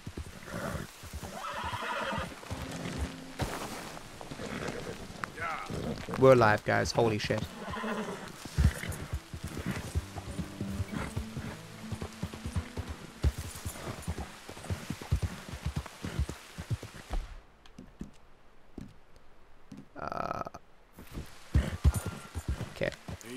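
Hoofbeats clip-clop and a horse whinnies in Red Dead Redemption 2, set against game music and ambience, with a player talking over much of it before a brief quiet stretch.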